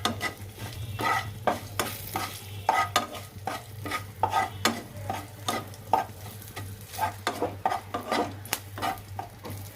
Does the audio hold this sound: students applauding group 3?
no